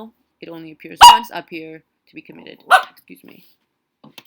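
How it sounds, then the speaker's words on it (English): Dog barking indoors: a few sharp, close barks in quick bursts, the loudest near the start and another shortly after, interleaved with someone talking. "Sorry, that was my dog."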